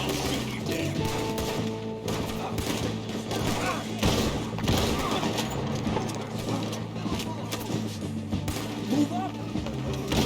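A Red Dead Redemption 2 shootout with scattered gunshots and thuds amid hoofbeats and shouting voices, the shots dull and irregular beneath constant speech and commotion.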